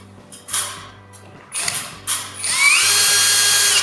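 A screw is driven into a wooden plank while a wooden garden shed is assembled. Short bursts from a driver start and stop, then turn into a long continuous whir as the screw bites in, loud and close, with no talking.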